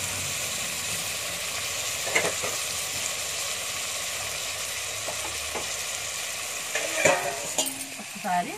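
Onions fry in a pan with ginger garlic paste, a steady low sizzle under a few scraping stirs that come louder toward the end.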